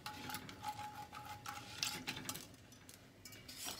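A whisk stirs hot chocolate milk in a pan, giving soft, quick scraping and ticking strokes, faint and close, with no talking.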